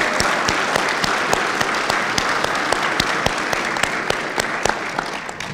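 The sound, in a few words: audience applause at a ceremony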